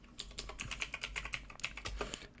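Quick run of keystrokes on a computer keyboard while a terminal command is typed, about a dozen crisp, close clicks in an uneven rhythm with a short pause midway and nothing else audible.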